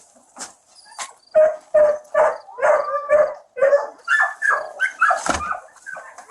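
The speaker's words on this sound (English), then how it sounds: "There's a dog on the other side." A friendly dog on the far side of a door barks in a rapid run of loud, sharp barks and yips mixed with whimpers, fairly close, with no voices over it.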